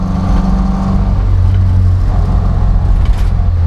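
A Morris Minor 1000 Traveller with a four-speed gearbox driving along, its engine droning loud and steady from inside the cabin, pitch shifting slightly as it pulls.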